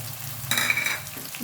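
Ginger paste sizzling with spices in a pan for a mutton curry, a short close burst of frying hiss with a stirring scrape, no talk.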